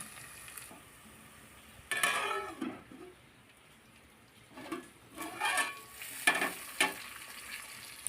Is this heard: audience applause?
no